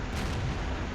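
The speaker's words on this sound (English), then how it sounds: "Ooh, artillery." An artillery shot in the tank game World of Tanks: one loud, heavy boom that fills the short moment with a deep, rumbling blast and no voices.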